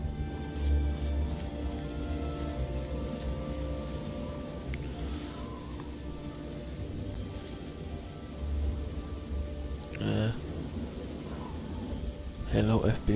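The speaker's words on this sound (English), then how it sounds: "Oh, there's rain, nice." Steady rain falls with a low rumble beneath during a storm in The Elder Scrolls IV: Oblivion, while a person speaks briefly near the end.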